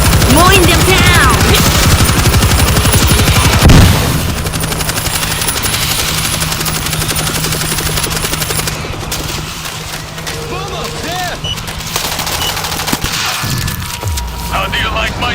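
Machine gun fire from a helicopter in the video game World War Z rattles in rapid continuous bursts over a droning rotor, with booms and game voices speaking in between.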